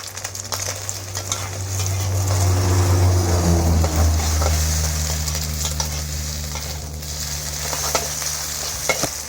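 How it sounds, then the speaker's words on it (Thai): Eggs stir-fried with garlic in a pan: a loud, continuous close sizzle with scraping stirs over a low steady hum, fading slightly toward the end, with no talking. "ตอนนี้แม่เอาไข่ มาผัดกับกระเทียมแล้วนะครับ"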